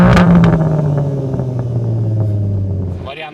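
BMW G80 M3 with an Akrapovič exhaust revs hard, a loud, close engine roar that climbs then holds a steady drone, ending with a brief burble as it settles.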